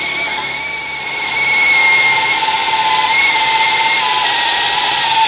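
A Workfix id13100 cordless drill set to screwdriving mode whirs steadily up close, a thin high motor whine holding level with slight pitch changes and no talk.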